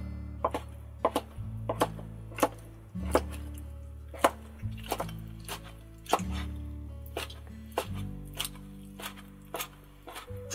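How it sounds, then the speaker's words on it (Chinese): A knife slicing pork skin into thin strips on a board, sharp evenly spaced chops in a quick steady rhythm, close and distinct over a low background hum. "猪皮切成细丝"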